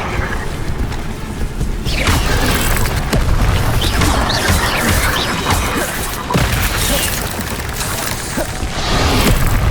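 Incendio fire spell cast in Hogwarts Legacy amid combat: loud, dense bursts of booming, crashing impacts and whooshes, several strikes in quick succession over continuous battle noise.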